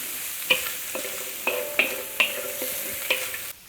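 Onions and carrots stir-fried in a pan for spicy turkey fried rice, with a utensil knocking and scraping the pan every second or so over a soft, continuous sizzle, close by and without speech.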